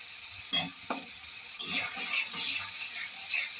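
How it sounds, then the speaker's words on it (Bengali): Tomato, onion and turmeric fry in a pan while a spoon stirs them, giving a few sharp scraping strokes over a soft, steady sizzle at close range, with no talking. "হলুদের গুঁড়ো দিয়ে কিছুক্ষণ নাড়াচাড়া করে নিচ্ছি"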